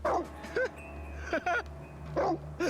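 A dog gives short, sharp barks and whimpering yips in several separate bursts, fairly close, over a low steady hum during a heated confrontation at a birthday.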